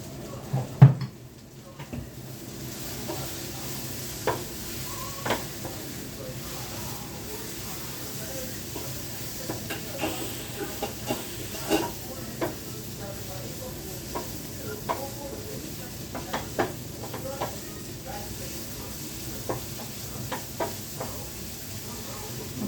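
Garam masala mixture for a green peas curry sizzles and crackles in a pan while being stirred and sautéed, a steady frying hiss broken by scattered scrapes and knocks of a spoon against the pan.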